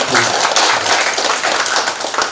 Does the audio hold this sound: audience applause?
yes